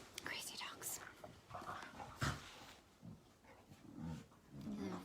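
Dogs scuffle and tussle over a toy, with panting, low growls and whimpers coming in bursts, while a person talks softly over them nearby.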